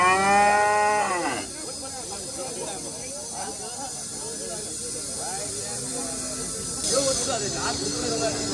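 At a busy cattle market in Seenapuram, Erode, a cow gives one loud, close, drawn-out moo, followed by a steady hiss and the murmur of people talking throughout.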